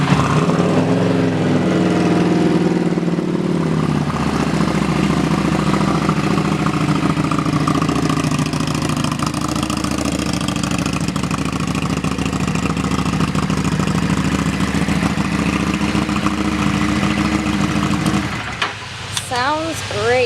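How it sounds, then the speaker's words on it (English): A 2015 XG750 Street motorcycle exhaust idles steadily and loudly up close, a constant low rumble throughout, then drops away near the end as a few brief tonal sounds appear. "let's listen to that exhaust"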